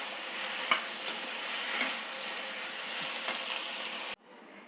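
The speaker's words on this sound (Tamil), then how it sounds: "இப்போ இது நல்லா அப்படியே ஸ்லோ ஃப்ளேமில் வச்சு நல்லா வதங்கட்டும்." Brinjal sautéing in a pan over a slow flame makes a steady broadband sizzle with a few faint stirring taps, fairly soft, then drops off abruptly near the end.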